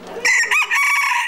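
Rooster crowing at a poultry exhibition in a hall in Algrange, one loud, close crow rising and holding before fading.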